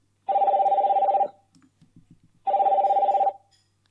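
A phone ringtone rings in two bright, even bursts about a second long, separated by a short pause with faint clicks, heard close and clear with no talking.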